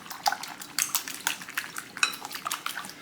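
Eggs being scrambled in a bowl for egg foo young, with quick irregular clinks and taps of a utensil against the bowl, close and fairly quiet, no talking.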